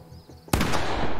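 A single loud gunshot from a powerful rifle in the horror game The Quarry cracks out sharply after a quiet lull, then rings with a long, dense reverberant tail.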